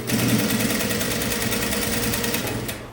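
A sewing machine stitching a sleeveless top runs in one steady, continuous close-up whir with a fast rhythmic needle beat, then stops abruptly near the end.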